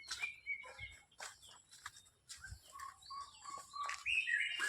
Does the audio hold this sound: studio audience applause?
no